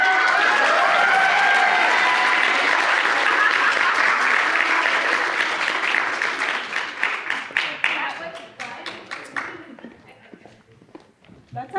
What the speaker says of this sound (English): You don't get started until you hear the applause.